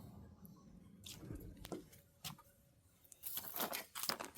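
Paper towels torn and crinkled in a quiet kitchen during elderberry tincture making, with a few sharp ripping bursts and soft rustles, louder near the end, no talking.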